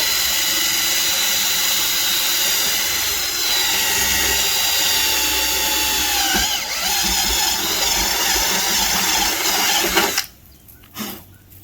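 Sustained whining drone of a drill with a dull bit grinding into the sheet-metal roof of a Ford Super Duty F250 during cab light installation, loud and steady for about ten seconds before cutting off abruptly, followed by faint rustling.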